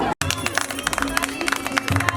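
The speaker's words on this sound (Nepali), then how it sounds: "ताली" Steady rhythmic hand clapping from a group at a Nepali wedding ceremony, close and continuous, with a held singing tone and voices running underneath.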